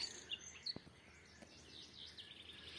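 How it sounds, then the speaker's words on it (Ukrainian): Several small birds chirp and tweet in willow and maple trees in early summer, their thin, quick calls fairly faint and scattered over quiet background, with a couple of sharp nearby clicks. "ще щебіт різноманітного птаства, яке знаходить собі прихисток у наших вербах і в кленах."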